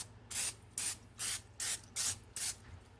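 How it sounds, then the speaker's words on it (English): Cooking spray sprayed onto a Twinkie maker in six short, even hissing bursts, each about a quarter second long, close and fairly quiet with brief pauses between them. "I'm going to go ahead and spray it because I don't want them to stick"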